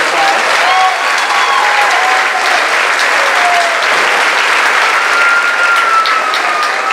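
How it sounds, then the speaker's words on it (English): Loud, dense applause from a graduation ceremony audience for the graduates, constant and close for the whole stretch, with faint voices and cheering mixed in. "Please give these graduates a round of applause."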